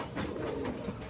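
Pigeons in a home loft, including Rajshahi biscuit and dobaj breeds with young, cooing softly in a low murmuring chorus close by.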